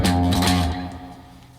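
A polyrhythm riff, variation B in 5/8, on a heavily distorted low-tuned guitar: a brief cluster of tight chugging hits and accents, loud and up front, then a fading tail.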